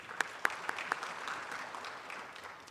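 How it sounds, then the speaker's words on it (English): Audience at a Rwanda Mining Week session applauding after the CEO of BRD speaks: a few sharp claps at first, then moderate, fairly distant clapping that carries on steadily. "Let's put hands together again and clap for the CEO of BRD"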